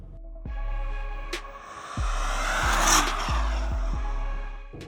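A heavy Porsche GTS, over two tons, is driven hard around a race track, its engine roaring through rising revs with abrupt gear-change breaks and a brief tire-scrub hiss, loud and close with no talk.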